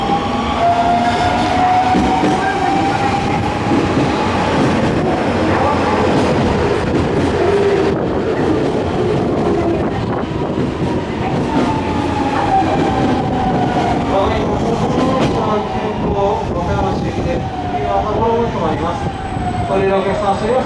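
A Nankai Main Line express train arrives at Sakai Station during the evening rush, rolling in loudly with rumbling wheels, squealing brakes and clattering cars. A platform announcement plays over the noise.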